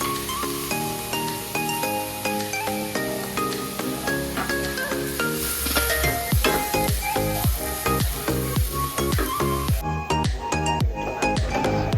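Potatoes and lentils fry side by side in oil for rainy-day khichuri, giving a continuous sizzle with crisp crackles and stirring scrapes, plus a steady tonal hum running underneath.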